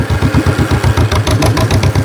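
A 1949 John Deere tractor engine runs in cold, snowy conditions with a loud, close, rhythmic putt-putt of evenly spaced heavy thumps, chugging along steadily on its own.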